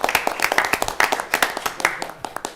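Audience applause at a school board of education meeting, a moderate crowd clapping steadily with distinct individual claps, fairly close and continuous for a couple of seconds.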